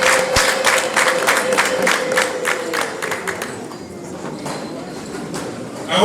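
Wedding guests applauding at a Rwandan wedding celebration, a dense ripple of many hands clapping for several seconds that thins out toward the end, with crowd murmur and some voices mixed in.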